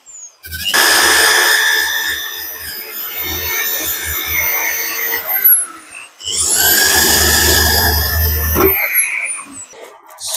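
A power sander with sandpaper grinding down a motorcycle fuel tank, running in two long loud whining passes with a steady high buzz, broken by a short pause as the tool spins down and restarts.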